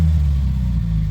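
A car engine, from a 2020 Subaru WRX setting, rumbling and revving loudly up close as a low, steady drone for about a second.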